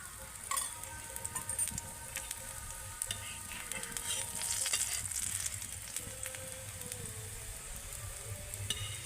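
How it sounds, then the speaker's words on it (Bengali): Layered lachha paratha made from leftover rice fries in oil in a pan, giving a steady, moderately quiet crackling sizzle with light popping throughout, with no talking. "এবার আমি তেল দিয়ে পরোটাটা ভেজে নেব"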